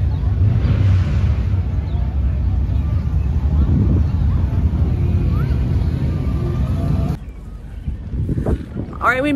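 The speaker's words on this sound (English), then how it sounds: "We made it. It's windy." Strong wind buffeting the microphone outdoors on a hilltop near traffic and bikes, a loud continuous roar that drops away near the end, with a person talking over it.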